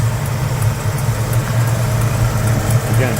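Fresh-built 396 V8 in a 1969 Chevrolet Chevelle SS tribute idling with the hood open, a steady, loud low rumble with an even pulsing throb, close up and with no talking.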